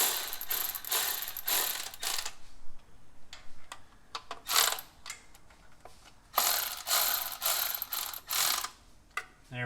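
A ratchet snugs valve cover bolts on a 1970 Chevy C10 during a valve cover gasket job, with bursts of rapid clicking separated by short pauses, close and fairly loud, no talking.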